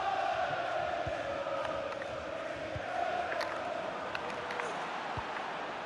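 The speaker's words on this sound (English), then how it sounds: "Being egged on by the crowd" Stadium crowd in the football video game FIFA 23 roars steadily throughout, a dense continuous wash of cheering with scattered louder swells and faint thumps, with commentary audible over it.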